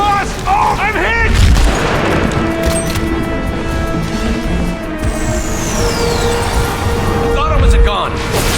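Gunfire and heavy booms in The Bureau: XCOM Declassified video game burst out in a combat scene, with sharp bangs at the start and end under frequent shouted voices and battle noise.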